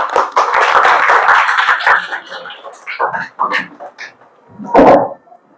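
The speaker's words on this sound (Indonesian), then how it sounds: "Tepuk tangan untuk kita semuanya" Hands clap in a classroom at a computer-science lesson, a short irregular patter of claps from a small group, fading into scattered taps and one last louder burst.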